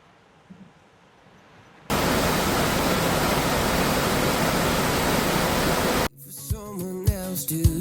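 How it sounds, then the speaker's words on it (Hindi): A mountain stream near Kandol Lake rushes in a loud, steady wash of water noise that starts abruptly and holds for several seconds, then cuts off into quieter sound with a voice. "हम बिल्कुल स्ट्रीम के सामने पहुँच गए हैं"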